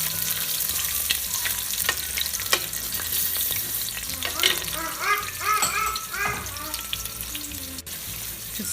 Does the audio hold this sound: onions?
yes